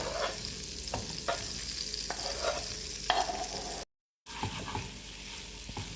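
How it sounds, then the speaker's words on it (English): Paneer frying in a pan, a moderate steady sizzle with soft stirring scrapes and a short moment of silence partway through. "So slowly turn the paneer so that all sides of it start turning brown."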